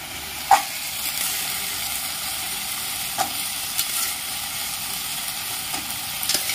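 Vegetables for rava kichadi frying in a pan, a steady soft sizzle with a few sharp clinks and light stirring knocks scattered across it, close and without talk.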